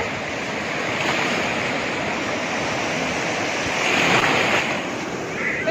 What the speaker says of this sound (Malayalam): കടൽ കയറി.